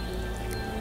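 Steady rain falls on a campsite in Lofoten, Norway, a continuous close patter with no voices.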